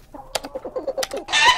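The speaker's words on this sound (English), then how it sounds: "These are Keyboardio's chickens." Chickens on a keyboard factory's grounds, a quick run of close, rhythmic clucks and pecking taps followed by a brief louder squawk at the end.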